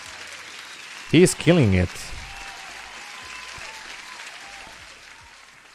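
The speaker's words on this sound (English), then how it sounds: "Huge applause." A steady, moderately faint wash of crowd applause runs throughout, briefly overlaid by a man's short spoken remark before it continues alone and slowly thins.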